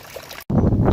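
Water from a straight pump in an aquaponics fish system inside a greenhouse churns and gurgles steadily, a brief dropout breaking the sound before a louder, fuller rush of flow resumes close by.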